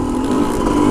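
Motorbike engine running steadily while riding along forest trails, a continuous loud mid-pitched drone with a faint rising rev, close up and with no voices.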